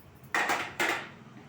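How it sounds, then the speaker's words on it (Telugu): A lid is set on a metal pot steaming ragi idli, giving two quick metallic clanks about half a second apart, close and fairly loud, each ringing briefly before fading. "మూత పెట్టేయడమే"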